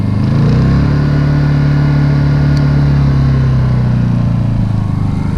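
A Honda generator runs under heavy power load, a loud, steady mid-pitched engine drone with a strong low hum. It holds constant throughout, close by, with no talk over it.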